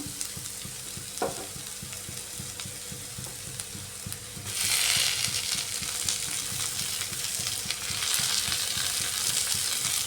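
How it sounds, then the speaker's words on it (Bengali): Chopped ginger frying in a pan for a Bengali rohu fish head chorchori, with tomato added partway, a steady close sizzle that grows louder and brighter, with faint stirring scrapes throughout. "আদা কুচি দিয়ে একটু হালকা ভেজে নিচ্ছি এবার এ পর্যায়ে দিয়ে দিচ্ছি কেটে রাখা টমেটো"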